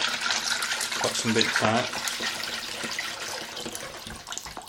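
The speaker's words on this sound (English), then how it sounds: "just fill in a bowl with some water" Tap water running steadily into a bowl in a kitchen while salad is being made, a broad continuous splash with a person talking over it.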